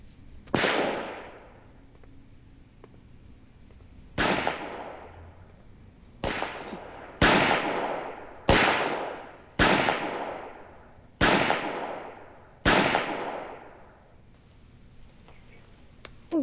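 Gunshots ring out at a shooting competition in a film scene: eight sharp, loud reports spaced one to two seconds apart, each with a decaying echo trailing off before the next.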